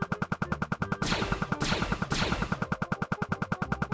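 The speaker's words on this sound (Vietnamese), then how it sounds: "Mình sẽ kích hoạt cỗ máy bắn tên của mình lên." Arrow-shooting machine in a Minecraft-style game fires a rapid, steady stream of loud repeating shots, with three sharp bursts cutting through the rhythmic volley midway.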